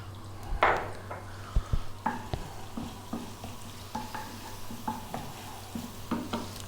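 Cumin seeds and curry leaves crackle and sizzle in hot coconut oil, with a sharp burst as they drop in, then steady frying punctuated by stirring clinks of a utensil against the pan.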